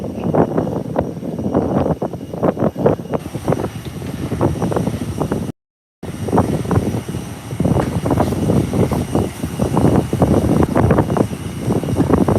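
An airplane comes in to land at Howard Hamilton International Airport, a steady loud roar mixed with buffeting wind noise on the microphone that continues throughout, briefly cutting out once, with no voices.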